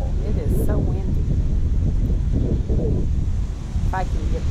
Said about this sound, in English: And the wind is horrible. It is so windy.